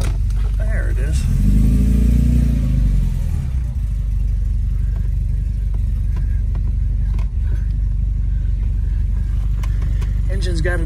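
Engine of a 1971 Volvo 144 S idling and running with a steady low putter, loud and close throughout, briefly rising as if revved near the start.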